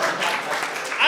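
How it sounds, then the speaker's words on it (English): A live audience at an election night comedy show bursts into dense, close clapping that holds steady for a brief moment. "I don't like how many of you clapped it back."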